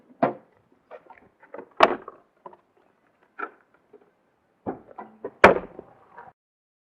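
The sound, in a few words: opening the hood of a 2015 Daihatsu Copen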